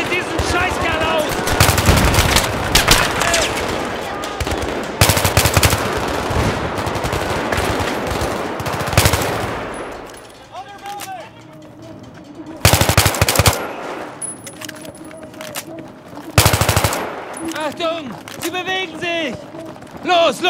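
Machine gun fire in Battlefield 3 on a combat mission: loud rapid automatic bursts dominate the first half, then gunfire breaks off and returns in short sharp volleys, with shouting voices throughout.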